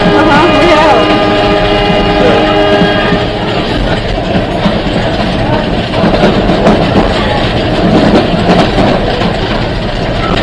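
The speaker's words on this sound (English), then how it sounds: "We passed this train going by." A heritage railroad train on the East Broad Top Railroad passes close by, a loud, steady rumble and rolling clatter lasting throughout, with tonal squeal or whistle-like lines early on and no speech.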